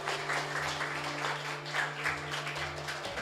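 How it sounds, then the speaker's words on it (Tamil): An audience claps for a lyricist, a soft, continuous patter of many hands at a steady level, slightly distant with a faint hum underneath. "அவர் எழுதிக்கிறது கைத்தட்டுவோம்."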